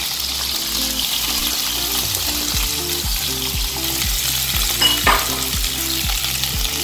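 Onions sizzle and fry steadily in olive oil in a pan, a continuous crackling hiss with soft stirring noises, close and fairly loud, with no talking.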